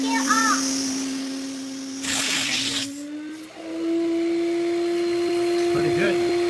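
A VacMaster 4-gallon, 5 horsepower shop vacuum starts up nearby, its motor whine rising in pitch to a steady loud hum, with a brief rattle during spin-up; no speech over it.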